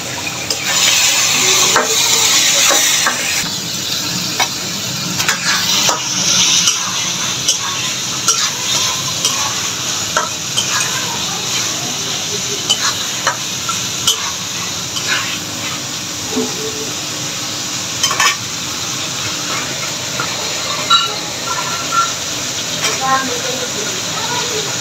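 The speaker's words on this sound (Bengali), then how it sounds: "এখন ব্লেন্ড করা যে বাকি মশলাটুকু ছিল এটা দিয়ে দেব।" A blended spice paste fries in a pan while being stirred, producing a loud close sizzle with scraping strokes and occasional clicks, and voices in the background.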